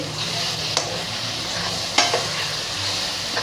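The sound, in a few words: capsicum being stirred and sautéed for pav bhaji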